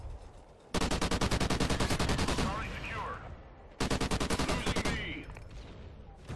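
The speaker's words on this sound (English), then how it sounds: "I just randomly shot right there." Automatic gunfire in the Call of Duty: Ghosts multiplayer game on PS4, two long rapid bursts of loud, close shots separated by a short pause, with a player talking under and between them.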